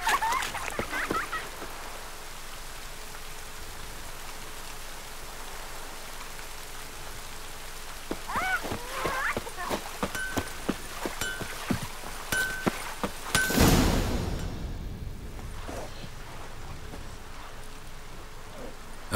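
Steady light rain patters throughout in the video game The Witcher 3, with scattered splashes and clicks midway and a loud whooshing burst near the end.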